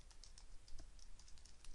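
Quiet typing on a computer keyboard, a steady run of light, rapid key clicks at an uneven pace, close and soft with no voices.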